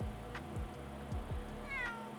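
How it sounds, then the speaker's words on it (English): A cat meows softly a few times in a quiet indoor setting, close and gentle. "Oh, my wonderful little cat."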